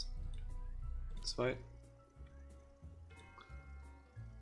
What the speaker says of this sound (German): Gieße 10 Pflanzen